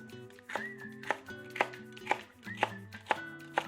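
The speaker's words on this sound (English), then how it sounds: "For celery, I actually like to cut mine in a diagonal so then it's less fibrous." A knife chops celery on the diagonal against a cutting board, about seven crisp, evenly spaced thunks over a soft background tone.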